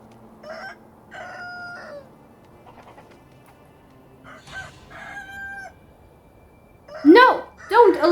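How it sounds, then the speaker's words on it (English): A giant rooster in the video game Sekiro crows and clucks in a series of nasal, harmonic calls. Quieter bursts come first, then louder, sharper cries close by near the end. "No! I was given away by a chicken. Rooster, I'm sorry, a rooster. A giant rooster, but a rooster."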